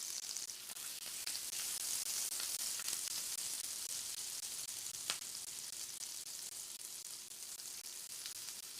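Steak fat held against a hot pan sears with a faint, continuous crackling sizzle and occasional small pops, quiet and steady throughout.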